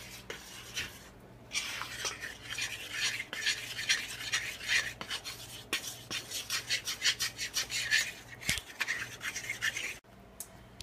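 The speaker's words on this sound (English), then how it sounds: "I'm going to add my cocoa powder and just mix this in real quick" Cocoa powder being stirred into leftover cake batter in a bowl, heard as close, rhythmic scraping and rubbing strokes that quicken into a rapid run before stopping abruptly near the end.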